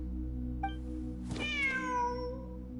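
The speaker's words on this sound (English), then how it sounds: "The cat again. Wait, there it is! The cat!" A cat meows in the video game Genshin Impact: one clear, drawn-out mew with a falling tail, heard close and alone over a steady low background hum, preceded by a faint short chime.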